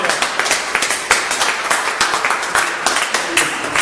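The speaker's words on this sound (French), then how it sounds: "Je vous demande d'applaudir" Museum visitors on a guided tour applaud together, a dense, steady patter of many hands clapping close by for a few seconds.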